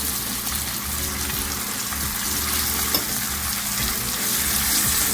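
Steak pieces searing in a pot for pepper steak, a steady close sizzle with soft scraping and stirring throughout.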